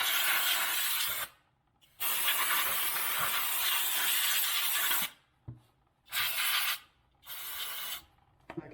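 AutoZone brake cleaner spraying from an aerosol can during a 2000 Acura 3.2 TL rear brake job: loud close hissing bursts, one long spray of several seconds and then shorter blasts separated by brief silences, with no talk.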